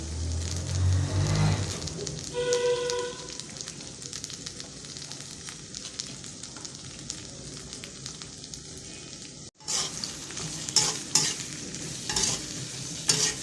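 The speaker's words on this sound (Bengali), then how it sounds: "পেঁয়াজটা ভালো করে ভাজা, তারপর শুটকিটা দিয়ে একটু ভাজা হইলে শুটকিতে সাথে দিয়ে দেবো" Onions and garlic fried in oil in a pan with constant stirring, a busy close sizzle and scraping, a brief tonal clink near the start and an abrupt cut partway through.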